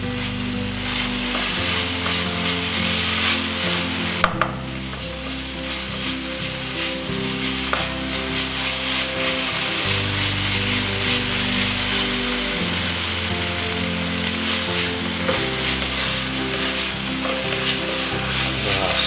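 Pork and banana flower curry fries in hot oil with a loud, steady sizzle, while a utensil stirs and scrapes the pan now and then over a low droning hum.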